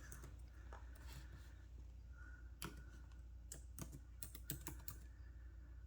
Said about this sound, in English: And I'm going to type 283222339.